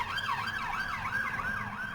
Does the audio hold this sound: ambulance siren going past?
yes